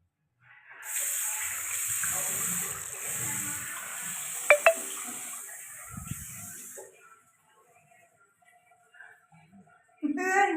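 Water runs from a household tap in a bathroom for several seconds with a steady hiss, then stops, followed by a few faint clinks and a brief rush again at the end, with a voice speaking nearby.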